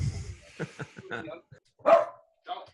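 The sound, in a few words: dog barking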